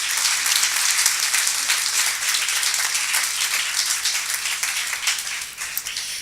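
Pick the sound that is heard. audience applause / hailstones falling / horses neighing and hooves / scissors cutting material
audience applause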